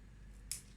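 Two quick, faint scissor snips cutting shredded kadayif pastry dough, the second a beat after the first, over a low background hum.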